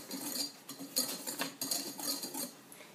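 Sugar and flour being mixed in a bowl for pineapple and strawberry push cakes: a utensil scrapes and clinks against the bowl in quick, uneven strokes, close and fairly quiet.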